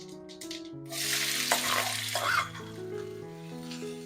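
Large sliced onion tipped into hot oil in a pan, a close crackling sizzle that swells, peaks and settles into a steady fry, with a sustained melodic tone running underneath.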